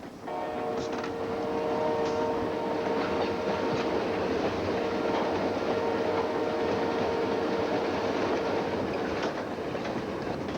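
A passenger train runs on rails through wintry northern Canada toward Churchill, with a steady rumble and clatter of wheels, faint intermittent clicks and a sustained tonal whine, continuous for about ten seconds with no voices.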